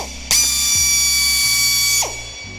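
A drill bores a pilot hole into a Honda Rebel 500 handlebar, a loud high-pitched whine that holds steady for under two seconds and then winds down, heard close up and alone.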